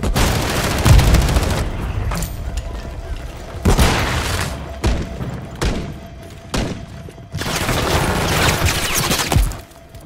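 Bursts of gunfire and heavy booms from a Call of Duty MW3 firefight come in several loud clusters with short lulls, under faint radio chatter.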